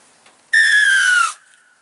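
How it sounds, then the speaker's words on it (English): Single short, sharp blast on a referee whistle, loud and close, a piercing tone of under a second that falls slightly in pitch before cutting off into quiet. "aiming for some of the shorter blasts on the whistle was helpful"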